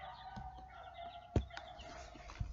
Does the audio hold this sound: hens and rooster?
yes